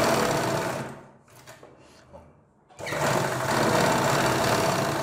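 A sewing machine stitches a front neck design on cloth with a steady, close mechanical whirr, stops briefly in the middle, then runs on loudly. No one speaks.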